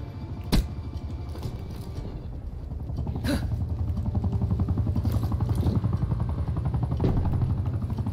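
Helicopter in the Vietnam-era shooter Call of Duty: Black Ops Cold War, a steady low rotor chop throbbing throughout with a sharp gunshot-like crack early on and other bursts of game action layered over it.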